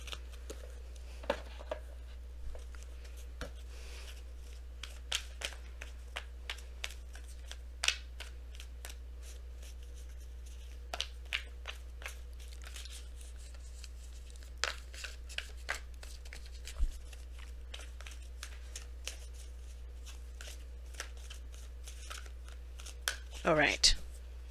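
Oracle cards being shuffled during a tarot reading, giving repeated short papery riffles and snaps spread through the stretch with a steady low hum underneath, ending in a brief louder flurry.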